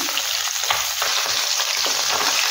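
Radhuni seeds hit hot oil left from frying chela fish, giving a loud, steady, close sizzle with faint stirring scrapes throughout and no voices.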